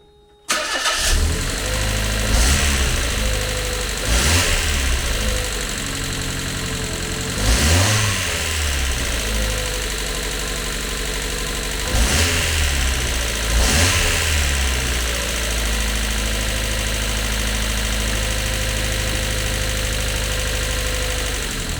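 A Mazda MX-5 engine with an automatic gearbox, freshly installed, starts up and idles, then revs in several distinct bursts, loud and close, with no voices.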